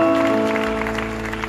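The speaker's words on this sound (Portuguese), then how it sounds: "Isto é um aplauso para eles" Concert audience applauding after a mandolin orchestra performance, a brief burst of dense clapping heard over a lingering sustained tone.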